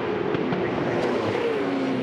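A V8 Supercar engine drones at the 2010 Adelaide 500 street race, a steady, close engine note that shifts pitch slightly as the car brakes toward a turn.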